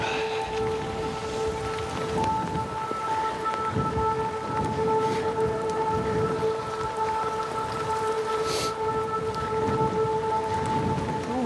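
Steady rain patters continuously on a trail during a wet-weather hike along the Stevenson path, a dense hiss with occasional low rumbles and no voices.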